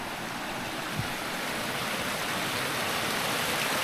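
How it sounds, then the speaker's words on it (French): A small stream flows along a hiking trail in Joshin'etsu Kogen park, giving a steady, even rushing hiss of water with no talking. "il y a un petit ruisseau là-bas"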